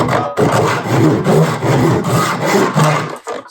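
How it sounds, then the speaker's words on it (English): A Japanese pull saw cuts wood held in a miter box, making loud, close, rhythmic rasping strokes of steady length, about four or five in a row with brief gaps, and no voices. "This is a Japanese pull saw."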